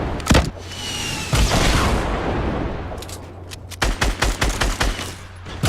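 Rapid gunfire hammering a building panel in Fortnite, sharp bursts of shots at the start and in a tight volley near the end, with a sustained crumbling rush in between.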